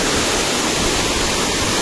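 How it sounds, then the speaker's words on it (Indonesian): Waterfall pouring over rocks, a loud, unbroken broadband rushing roar that stays constant throughout with no voices. "Yang saya lihat batu sama air terjun."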